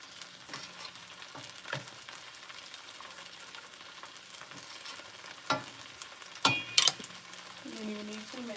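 Garlic and shrimp fry in a pan on a very hot stove, a quiet, steady sizzle broken by a few sharp utensil clacks and stirring scrapes, fairly close with no talking.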